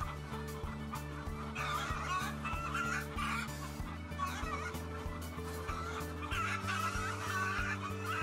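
Laying hens in an enriched colony housing system cluck steadily as a flock, with continuous overlapping calls over a constant mechanical hum of barn equipment.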